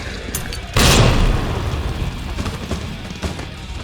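A single loud grenade explosion booms in the Resident Evil 2 Remake video game, hitting sharply and then leaving a long rumbling decay with no talking.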